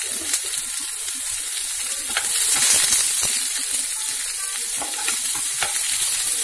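Chopped garlic, green chillies and onions sautéing in a pan for Gobi Manchurian, a strong close sizzle with steady crackle and intermittent stirring clicks, getting slightly louder midway, no voices.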